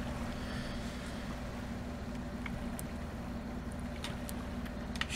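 A steady low engine drone with a constant hum, a motorboat motor in the video game Sleeping Dogs: Definitive Edition running continuously, with a few faint clicks over it.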